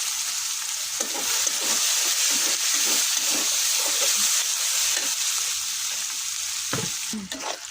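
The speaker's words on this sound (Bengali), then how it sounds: "এই যে পেঁয়াজ ভাজা হয়ে গেছে" Onions sizzle and fry in hot oil left from roasting chicken, a steady loud hiss with occasional stirring scrapes and clinks, close up, continuous throughout with no voices.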